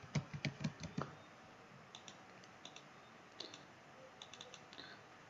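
A computer keyboard shortcut, Ctrl D, is pressed repeatedly, with a quick burst of close clicking keystrokes at first, then sparse, fainter key taps and mouse clicks.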